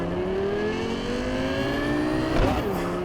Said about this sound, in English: Cars sound powerful,